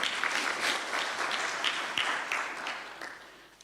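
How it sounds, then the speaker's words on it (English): Audience applause at an annual delegates meeting of a Kingdom Sacco, a steady wash of many hands clapping that holds for several seconds and slowly fades toward the end, with no talk over it. "So let's give a clap to Francis."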